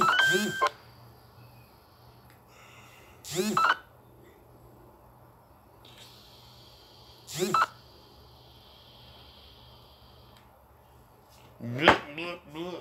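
Phone beeping in short bursts at about 0, 3.5, 7.5 and 12 seconds, each a brief cluster of electronic tones, fairly close, with a low steady hum between them and no talking.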